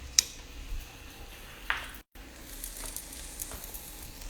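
A pink lentil pancake frying in a pan over medium heat gives a quiet, steady sizzle with a few soft ticks and pops across the stretch.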